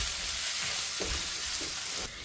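Carrots and onions are sautéed in a pan for chicken rolls, a steady sizzle with a few soft stirring scrapes before the frying sound drops lower near the end.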